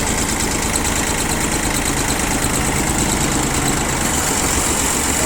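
A Japanese mini tractor's cold engine idles steadily throughout, a constant low mechanical drone with a faint metallic rattle from the muffler guard and no talking.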